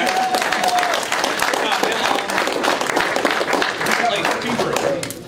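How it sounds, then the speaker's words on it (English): Audience applause fills a convention panel room at a gaming event, dense steady clapping from a crowd that carries on for several seconds, with voices mixed in. "Clap for Godzilla, damn it!"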